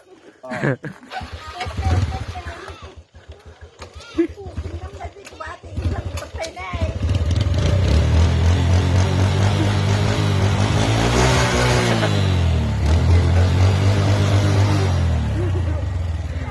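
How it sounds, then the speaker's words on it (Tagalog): A motorcycle engine runs steadily and loudly up close, its drone rising and falling in pitch as it revs, with people talking over it at the start. "Guys, ito na yung motor."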